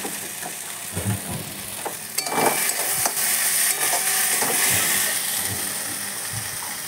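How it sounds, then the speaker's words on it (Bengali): Lentil fritters go into a pan of banana flower curry being fried. Oil sizzles steadily and a spoon clatters and scrapes through the pan in uneven bursts, with no talking. "এবার এর মধ্যে বড়াগুলা দিয়ে ডালের বড়াগুলো দিয়ে দিলাম।"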